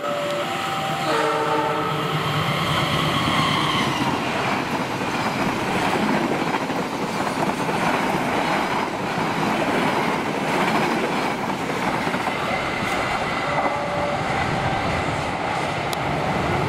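An Indonesian direct express train speeding past at high speed, a loud sustained roar of wheels and carriages with a horn blast near the start, close and continuous throughout with no talking.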